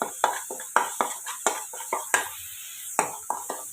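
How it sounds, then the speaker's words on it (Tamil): Ginger garlic paste sautéed in oil in a pan, with a spatula scraping and stirring in quick, irregular strokes, close and moderately loud, with a short pause midway. "இந்த எண்ணெயிலே இஞ்சி பூண்டு விழுது வதக்கலாம்."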